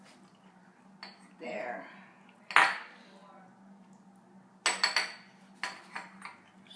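Marshmallow mixture scraped from one bowl into another with a utensil, giving scattered scrapes and clinks of bowl and spoon, fairly quiet, with soft talk around them.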